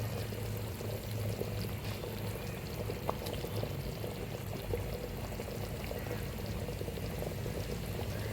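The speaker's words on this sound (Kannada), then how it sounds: "ಇದು ನೀರು ಎಲ್ಲ ಕುದಿಬೇಕು, ಚೆನ್ನಾಗಿ ಕುದಿಯುವಾಗ ನಾವು ಮೀನನ್ನು ಇದರಲ್ಲಿ ಹಾಕಿಕೊಳ್ಳೋಣ" Water for a mackerel fish gravy boils steadily in a pot, giving a dense, even bubbling and rushing hiss that stays constant and close throughout, with no talking.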